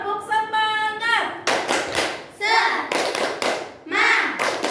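A classroom group does a rhythmic cheer clap for ice breaking before a lesson, with several sharp bursts of hand claps between spoken call-and-response voices, fairly loud and close.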